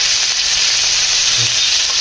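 A spoonful of ginger and green chili paste hits hot oil with nigella seeds and sizzles loudly and steadily, a dense, close hiss throughout with no voices.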